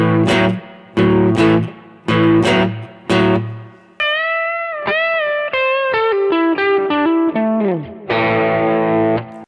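A blues riff in swung eighth notes on a distorted, effects-heavy instrument: loud, choppy, long-short chord stabs, then a quicker run of bent single notes and a final sustained chord.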